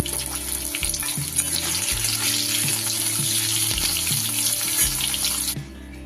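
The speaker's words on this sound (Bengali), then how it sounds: "তেল গরম হলে আলুগুলো সবার প্রথমে ভেজে নেব আলুতে সামান্য একটু নুন দিয়ে দিচ্ছি" Salted potatoes frying in hot rice bran oil in a pan, a continuous bright hiss with low tonal hum and occasional clinks, no one speaking.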